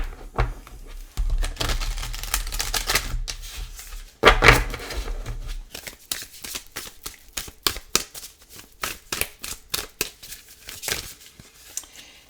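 Tarot advice cards being shuffled, a dense riffling burst followed by a run of quick crisp card snaps and taps, close and quiet with no talking.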